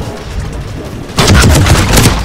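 Gunfire in a Battlefront 2 shooter running the Mass Effect Unification mod: quiet game ambience, then a loud, sustained burst of rapid shots with heavy low booms that carries through to the end.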